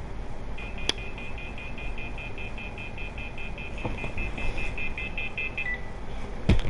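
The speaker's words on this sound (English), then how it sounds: "Sorry, you guys, my phone just went off." A mobile phone alert sounds as a long run of rapid, evenly spaced electronic beeps over steady game audio from MLB 17, lasting several seconds before stopping.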